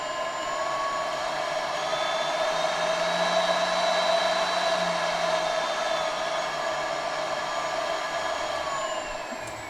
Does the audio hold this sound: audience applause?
no